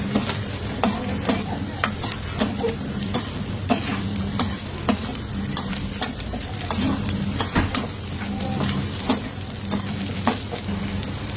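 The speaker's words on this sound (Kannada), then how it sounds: "ಗೋಬಿನ ಫ್ರೈ ಮಾಡ್ಕೋಬೇಕು" Cauliflower florets stir-fry on a high flame in a pan, a loud continuous sizzle punctuated by rhythmic clanks of a spatula against metal throughout, up close with no voices.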